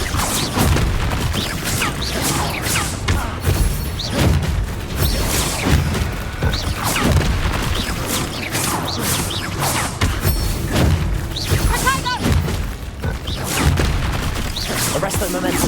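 Confringo fire blast spell explosions in a Hogwarts Legacy video game battle, repeated loud booms and crashes in rapid irregular succession, with thuds, mechanical clatter and shouted voices mixed throughout the combat din.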